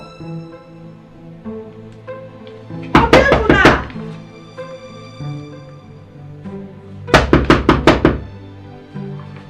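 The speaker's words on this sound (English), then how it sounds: "Obiefuna, open this door!" Two loud bursts of rapid pounding on a door, each about five or six hard knocks, separated by a few seconds of quieter sustained music in the background.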